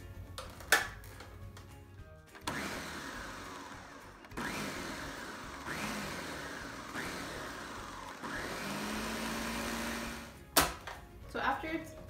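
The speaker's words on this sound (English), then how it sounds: "with your blender, make sure to start it off a little bit slow, but then ramp it up pretty high" A kitchen blender whirs through a vegan chocolate ice cream mix in several bursts that ramp up in pitch and grow steadier, with clatter at the start and end.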